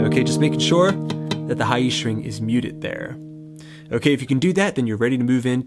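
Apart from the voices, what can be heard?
No everyday noises stand out.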